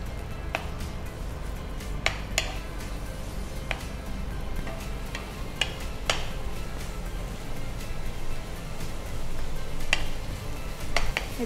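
Chopped onion sizzles steadily in hot oil in a home kitchen pan, with occasional sharp ticks and clinks of a stirring spoon against the pan over the continuous frying hiss.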